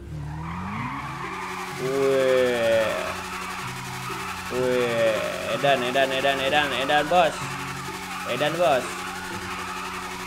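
Modified Yamaha NMAX scooter doing a tire burnout in the GTA V video game, with repeated squealing skids and revving engine bursts under someone talking throughout.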